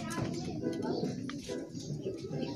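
Racing pigeons coo softly in low, throaty rounds while people chatter nearby at a pigeon racing club in Lucena, Quezon, the birds' calls repeating beneath the voices.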